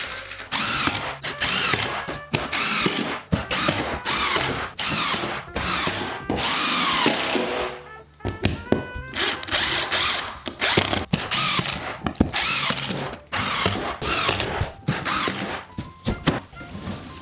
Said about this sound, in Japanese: このタイミングでビスを打っていきます